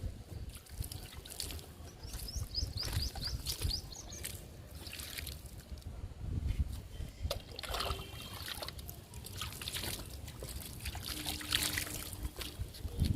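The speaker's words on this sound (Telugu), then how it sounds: "ఇప్పుడు వాటర్ ఇస్తున్నా" Water is poured onto newly sown okra seeds in a garden bed, making a soft, steady trickle and splash throughout, with faint bird calls in the background.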